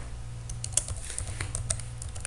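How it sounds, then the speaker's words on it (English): Typing on a computer keyboard while filling in an Excel sheet, a steady patter of light key clicks, close and moderately loud, alone without speech. "let me go back to the Excel and write here"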